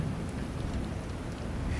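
Steady rain falling on Baker Street, a dense even hiss of drops with a low rumbling undertone, close and continuous with no voices.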